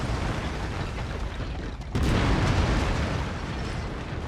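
Autocannon fire from a mech in MechWarrior 5: Mercenaries, a loud sustained burst of heavy blasts and rumble that swells sharply about halfway through and keeps roaring to the end, with no talk.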